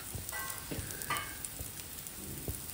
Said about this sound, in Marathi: आणि आता हे आपण सगळे सेमी फ्राय करायला ठेवलेले आहेत